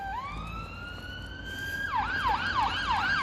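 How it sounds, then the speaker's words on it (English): An ambulance siren, loud and close, holds a long rising wail, then switches to a rapid repeating yelp cycle. A steady road rumble runs underneath and nobody speaks. "So it's an ambulance with sirens on."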